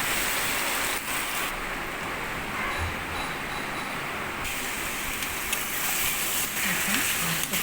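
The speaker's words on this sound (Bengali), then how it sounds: "পেঁয়াজটা ভেজে নেব" Onion frying in hot oil for a chicken curry, a steady hissing sizzle that runs throughout at an even, fairly loud level, with faint clatter now and then.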